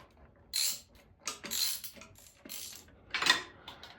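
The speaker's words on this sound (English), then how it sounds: "I'm just going to use my wrench to just tighten up that bottom bolt" A hand wrench tightens the bottom bolt on a tractor alternator being fitted to a Triumph Spitfire, giving several short, quiet ratcheting clicks in irregular bursts with pauses between them, close by and with no talk.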